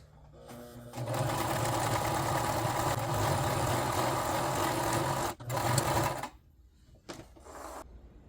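Sewing machine stitching lace and ribbons onto a cosplay skirt, a fast steady mechanical whir running for several seconds, then a brief pause, another short burst and a few faint final stitches.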